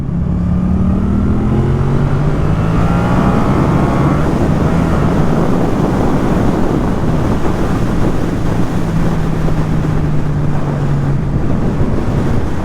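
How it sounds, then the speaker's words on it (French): Wind batters a new microphone fitted with a foam cover outdoors outside town, making a loud, steady rumble for the whole stretch, with a faint low whine drifting underneath and no talk. "c'est l'occasion de tester mon nouveau micro hors ville avec du vent"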